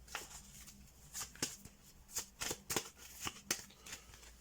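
Playing cards for the Time Bomb board game are dealt onto a table one at a time, giving a series of soft, quick flicks and slaps in uneven bursts, close and fairly quiet.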